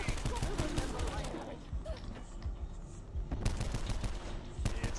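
Rapid bursts of gunfire from the video game Call of Duty Black Ops 4, sharp repeated shots with mechanical clicks mixed in, close and loud, with players talking over the action.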